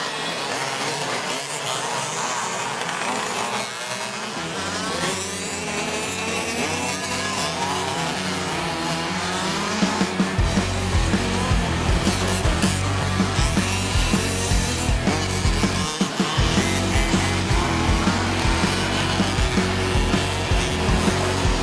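Quarter-scale speedway race cars roar around the track at Little Avalon Raceway in Lara, Victoria, during the 2018 quarter-scale titles. Buzzy small engines drone continuously, swelling louder and rougher in the second half as several cars pass close.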